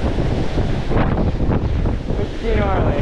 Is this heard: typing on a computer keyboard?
no